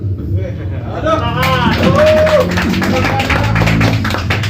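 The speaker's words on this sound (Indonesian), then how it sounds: "Tepuk tangan dulu." An audience at a literary debate claps together, a dense patter of many hands rising after a moment and sustained, with voices murmuring and calling out among the crowd.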